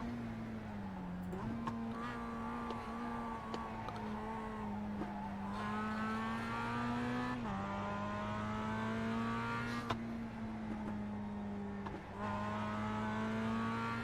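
A Mazda MX-5 Cup race car engine droning steadily in iRacing qualifying, its pitch dipping and climbing with gear shifts and throttle changes, close and continuous, with brief tire noise and no talking.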